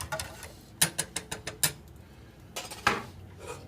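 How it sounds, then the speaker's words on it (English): Pasta being stirred in a pot, the spoon scraping the bottom and corners, gives a quick run of sharp metallic clinks and scrapes, then a pause and a few more knocks, close by with no talk. "Stir your pasta."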